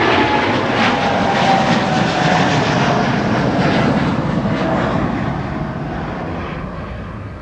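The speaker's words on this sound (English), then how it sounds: "Another Dreamliner with the new livery, the deeper smile." KLM Boeing Dreamliner airliner at Amsterdam Schiphol, a loud sustained jet-engine roar with a faint whine, slowly fading toward the end as it moves away.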